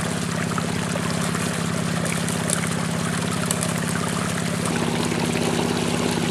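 Water running through a Gold Hog sluice box with Razorback matting, a steady close rushing flow with a fast low rhythmic pulse underneath, likely from a pump, continuing without pause and shifting slightly near the end.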